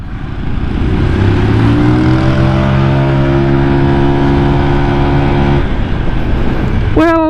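A Honda Vario scooter with a standard exhaust hums steadily while riding, its engine note rising smoothly in pitch under loud wind rush, with a brief high tone near the end.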